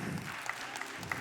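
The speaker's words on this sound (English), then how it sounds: "Applaud for Becky." A game-show audience applauds for a contestant named Becky, a steady wash of clapping with a few sharper claps standing out, fairly loud and close, with no talk over it.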